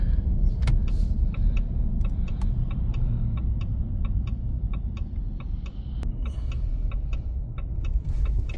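A lifted Ram RHO truck rolls up to an off-road repair shop, its steady low engine and road rumble continuing without a break, with faint regular ticking clicks layered over the drone.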